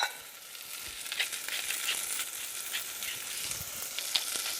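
Ravioli filling sizzles in a hot pan with salt and pepper, a steady crackling hiss with small pops and stirring sounds, heard alone without talk.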